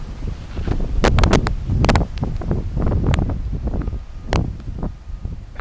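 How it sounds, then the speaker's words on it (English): Strong gusts of wind buffet the microphone outdoors during plein air painting, producing loud, uneven low roaring bursts with sharp crackling thumps, close and turbulent, no speech. "What a fucking wind gust."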